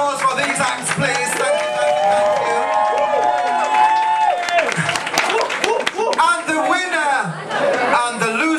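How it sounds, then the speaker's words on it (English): A bar crowd at a drag talent contest in Newcastle claps and cheers for the acts, with a host talking loudly over the applause and voices and chatter mixed in throughout. "A round of applause for these acts, please."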